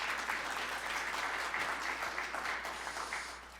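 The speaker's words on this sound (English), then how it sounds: "you can clap" An audience at a poetry reading breaks into sustained, dense clapping that holds steady and then tapers slightly toward the end, with no talking over it.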